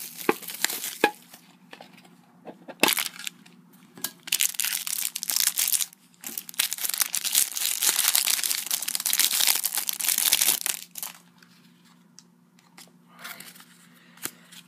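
A Match Attax Champions League 17/18 mini tin and its card packets are opened up close, with bursts of crinkling, tearing wrapper and rustling card handling between quieter pauses, and no talk.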